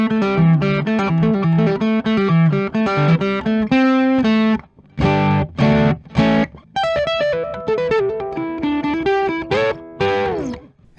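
Distorted electric guitar, a Cordoba Stage through an overdrive pedal into a Quilter amp, plays crunchy chords and riffs, a few brief pauses between phrases, loud and close.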